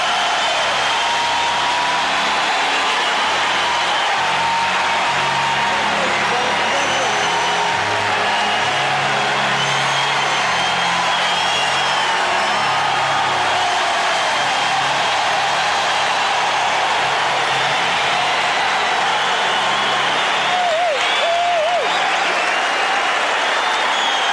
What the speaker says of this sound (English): The crowd will get loud again now as Webber enters the arena.